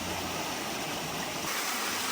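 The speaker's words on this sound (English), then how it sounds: "nice little creek or stream or whatever you want to call it." A mountain creek on a forest trail flowing steadily, a broad, even rush of moving water that stays constant throughout with no voices.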